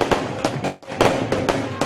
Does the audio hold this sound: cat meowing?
no